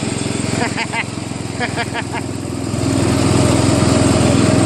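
Craftsman LTV 10 VariDrive lawn tractor engine running steadily at close range, a continuous loud drone that swells slightly toward the end, with a person talking over it early on.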